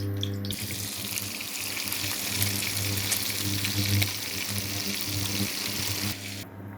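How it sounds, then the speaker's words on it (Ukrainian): Sizzling and crackling of meat frying in a pan, a continuous hiss with a low hum running beneath, fairly close and steady. "М'ясо викладаю на сковорідку."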